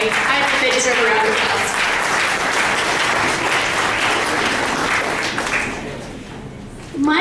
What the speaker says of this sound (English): I think they deserve a round of